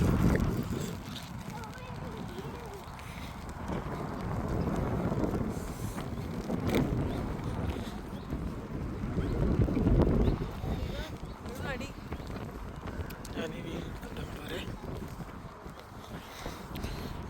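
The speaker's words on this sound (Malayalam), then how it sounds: "നല്ല മഴയായി തുടങ്ങി, നല്ല കാറ്റും നല്ല മഴ." Strong gusting wind and rain at Knock Shrine in County Mayo, Ireland, a steady rushing roar buffeting the microphone with louder swells, while a voice talks at times.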